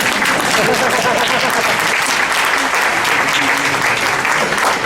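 Loud, dense applause from an audience fills the whole stretch, steady and continuous without a break, in a gathering near Jerusalem.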